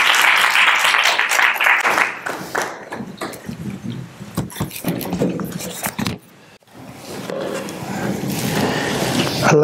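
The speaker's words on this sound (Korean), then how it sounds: "우리 환영의 박수." Church congregation clapping in welcome at a New Year Bible conference, starting loud and dense, then thinning into scattered claps and a brief lull before swelling again toward the end.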